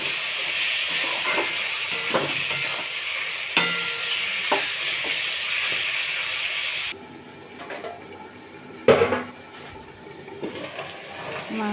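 Chicken and carrot curry sautéed and stirred in a pan, steady sizzling with scraping stirs and a few knocks, the sizzle dropping suddenly to a quieter simmer midway.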